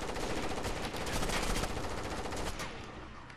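Rapid automatic gunfire in the video game Rainbow Six Vegas 2, dense and continuous bursts filling the whole stretch, loud and close, fading slightly at the end with no talk over it.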